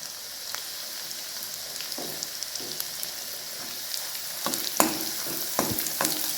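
Thecha with peanuts roasting in oil in a pan, giving a close, steady sizzle and crackle with occasional sharper pops and stirring scrapes.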